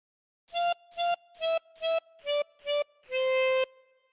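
A 16-hole tremolo harmonica plays the opening of Twinkle Twinkle Little Star, with six short wavering notes followed by one longer held note, clear and alone.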